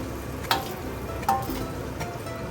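Steady frying sizzle from a pan as tomatoes are added, with a couple of sharp clinks and stirs over the hiss, no voices.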